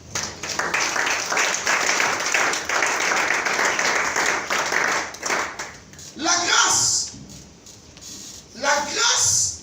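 A church congregation bursts into sustained applause and clapping with cheering voices, a dense crowd roar that fades before further sharp rounds of clapping near the end.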